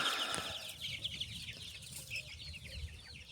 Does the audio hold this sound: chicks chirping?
yes